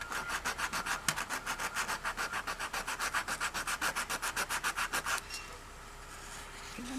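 Rhythmic sanding on a broken doll during restoration, steady back-and-forth strokes about five per second, close and moderately loud, stopping abruptly after five seconds into quiet room tone.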